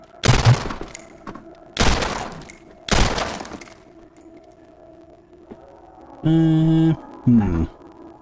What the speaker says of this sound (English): Try shooting the gun or something.